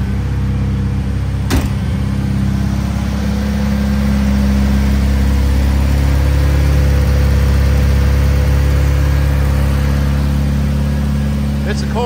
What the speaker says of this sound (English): it's still stuck in high idle for a minute, but it's got a nice aggressive tone coming out of those tailpipes